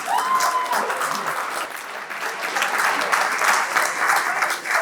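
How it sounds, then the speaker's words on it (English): Audience applause for a guest at a Helsinki fan event, a steady sustained clapping from a room full of people, loud and continuous throughout with no speech over it. "Can you please give a big round of applause to Jere Virtanen?"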